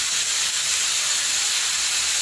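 Onions frying on a high flame while being browned for a restaurant-style matar mushroom curry: a loud, dense, unbroken sizzling hiss, close up and with no voices.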